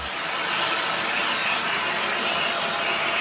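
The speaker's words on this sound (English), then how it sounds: "do things like vacuum up the curtains" Vacuum cleaner running close by while curtains are vacuumed, giving a steady, loud, unbroken whooshing roar throughout, with no speech.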